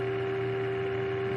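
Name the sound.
telephone dial tone in the video game Oxenfree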